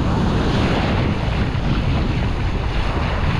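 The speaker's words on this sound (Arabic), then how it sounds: "البحر مدردر شويه، فما ريح فما موجه" Sea waves and wind on Gammarth beach in Tunisia with choppy water, a loud, continuous roar of surf mixed with heavy wind buffeting the microphone.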